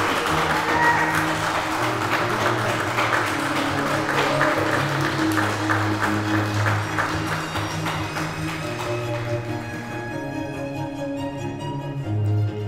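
Wedding guests applaud at an indoor reception, a steady wash of clapping that runs for several seconds and then thins out toward the end.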